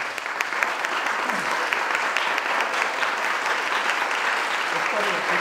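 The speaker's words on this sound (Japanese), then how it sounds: "皆様祝福の拍手をお願いします。" Wedding guests at a Japanese church-style wedding ceremony break into dense, continuous applause in blessing, a steady wash of many hands clapping throughout.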